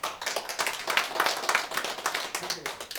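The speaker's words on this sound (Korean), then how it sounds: "이 김욱관 선생님을 법인 설립 추진위원장으로 여러분이 추진해 주신다면 박수로 환영해 주시기 부탁드리겠습니다." An audience at a meeting in Haeundae about a Vietnam War veterans' combat allowance claim claps in welcome. The clapping is close and uneven, with loose individual claps and a little background murmur.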